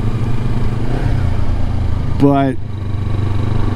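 A Kawasaki Versys X 300 motorcycle runs with a steady engine drone and wind rush under a rider's close spoken commentary, with a brief rising whine near the end.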